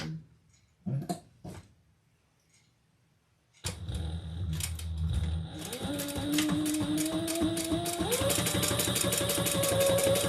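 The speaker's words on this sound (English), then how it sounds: "now we're going to sew across the top there" A sewing machine stitches across the top of a Monroe handbag, starting after a few soft clicks and handling sounds, then running in a steady, rapid, whirring chatter that climbs slightly in speed.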